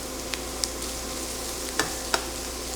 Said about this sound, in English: And this action of sizzling things in oil in a pan in a single layer